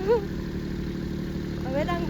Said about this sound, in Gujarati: હવે બધા હકાવે છે ટ્રેક્ટર વારા ફરતી વારા પેલા વેદક હંકાવે છે પછી હીરો હકાવશે